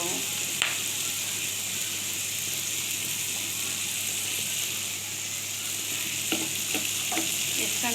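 A turmeric-spiced mixture being stir-fried in a pan, with a loud, dense, steady sizzle up close. A few sharp clicks of a spatula against the pan cut through it.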